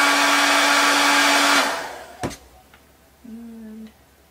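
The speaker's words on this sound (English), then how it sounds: "Hit it with a blow dryer again." A hair dryer blows steady and loud on freshly applied white decorative paint for tole painting, then cuts off with a click, followed by a shorter, quieter burst of blowing.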